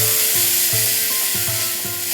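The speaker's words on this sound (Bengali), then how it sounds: "এবার আমাকে এটা ভালো করে কষাতে হবে।" Paste of onion, poppy seed and cashew sizzling in hot oil, a steady close hiss broken by regular scraping strokes of a spatula stirring the pan.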